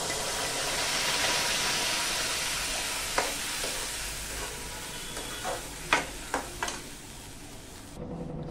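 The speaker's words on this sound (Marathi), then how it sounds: "आता ही जी डाळ आहे ही आपण याच्यामध्ये घालूया" Boiled yellow moong dal going into a hot tadka pan, a continuous sizzling hiss with a few sharp clinks of a spoon or utensil near the end, close and fairly quiet.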